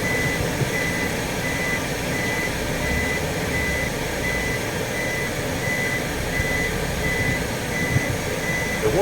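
A big truck manoeuvring in a parking area, its reversing alarm beeping steadily in an even repeating rhythm for the whole stretch, loud and near over constant engine and road noise.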